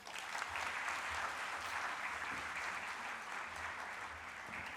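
An audience at a Rotary Club one-act play award ceremony claps for the prize winners in steady, fairly faint applause that holds evenly throughout.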